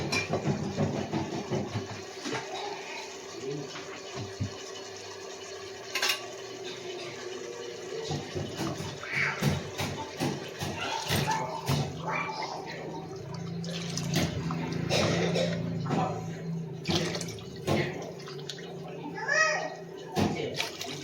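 Water splashes and pours into a pot of rice for vegetable biryani in uneven bursts, with people talking and a voice nearby throughout.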